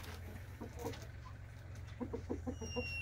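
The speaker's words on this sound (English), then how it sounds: "And of course, all the chickens." Chickens on a farm, including a mother hen with chicks, give soft clucking calls in short bursts, faint over a low steady background hum.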